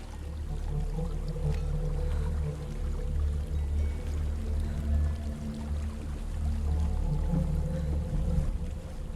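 Rushing water from a waterfall in the video game Hellblade: Senua's Sacrifice, a dense continuous roar with a deep rumbling low end, steady and fairly loud, no talking.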